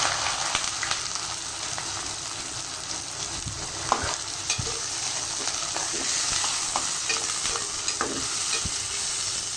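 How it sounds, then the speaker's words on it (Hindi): Garam masala and onions fry in hot oil for a chicken curry, a steady close sizzle with scattered sharp clicks and scrapes of a spoon stirring through the pan, no voices. "अब इसमें सबसे पहले हम गरम मसाले डालेंगे। फिर इसमें प्याज शामिल करेंगे।"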